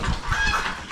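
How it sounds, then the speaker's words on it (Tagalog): A few young pullets kept on a small backyard farm call out close by, a brief honking cluck with no other sounds around it. "ito lang po yung mga dumalaga natin"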